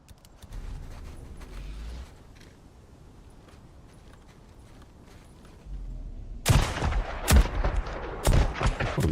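Gunfire in the video game Days Gone: after a few seconds of low rumbling ambience, a burst of loud, sharp shots fires in quick irregular succession near the end.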